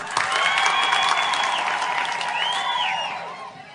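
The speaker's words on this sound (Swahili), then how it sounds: "makofi." Applause from a crowd gathered in a church for a political event rises quickly into a dense, bright burst of clapping, holds steady, then thins out, with voices calling out over it.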